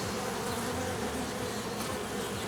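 Honeybees from a small Mini Plus hive colony fill the air with a dense, continuous close-up buzzing that stays steady and loud throughout.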